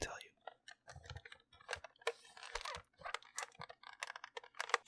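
Rapid typing on a Goldtouch split keyboard, close and crisp with irregular bursts of key clicks, quiet overall, with a soft whisper-like voice faintly underneath.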